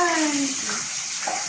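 Steady hissing sizzle of food frying in a pan, loud and close, with a brief fading tonal sound at the start.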